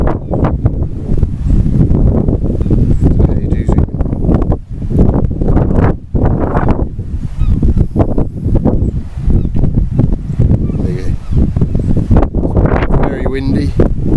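Strong wind buffets the microphone on a coastal cliff path on the Lizard Peninsula, a loud continuous rumbling roar with gusty surges.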